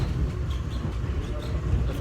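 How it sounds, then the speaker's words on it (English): A subway train rides toward Terminal A, a steady low rumble with faint rattles and squeaks running continuously throughout. "we are now riding the subway train"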